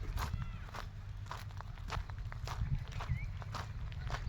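Footsteps walking toward a buffalo calf on a village farm in light rain, a steady series of close, crunching steps at an even pace over a low background rumble.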